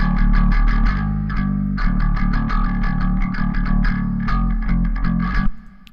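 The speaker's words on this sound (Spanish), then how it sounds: "vamos a ver cómo suena sin el reverb y con." A bass line played through the Duality Bass Studio plugin, first dry then with reverb, sounds as repeated plucked notes with a deep sustained low end and a rhythmic, slightly distorted attack, loud and alone.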